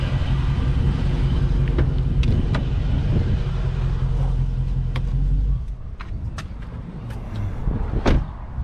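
A Dodge Charger Scat Pack engine rumbles steadily, then cuts out about halfway, leaving a quieter interior with a few scattered clicks and ticks.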